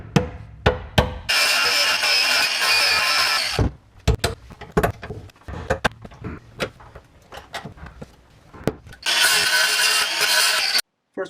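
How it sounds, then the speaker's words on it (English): Cutting tool grinding through spot welds on a Porsche 964 chassis: two long, loud, harsh bursts of cutting noise separated by several seconds of clanks, taps and handling noises close by. "I'm gonna try to just cut through the spot weld and see if I can get it to detach"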